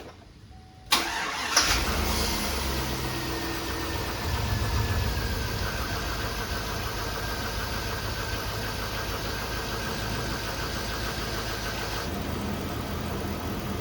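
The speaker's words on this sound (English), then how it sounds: "I'm going to start the truck and try them all to make sure" A Chevrolet Suburban truck, woken after five years of storage, cranks briefly, catches and settles into a steady, loud, rumbling idle that continues for over ten seconds with slight shifts in tone, no voices.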